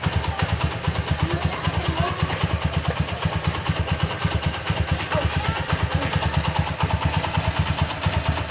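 An 11-year-old Honda Mega Pro Primus motorcycle idles close by, its single-cylinder engine thumping in a steady, even rhythm with a light mechanical clatter throughout.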